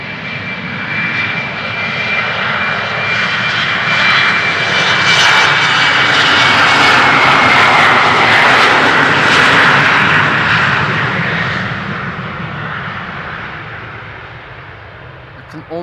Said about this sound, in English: fans of the E2 Embraer 195, if you guys are in luck, we are about to see two back-to-back depart.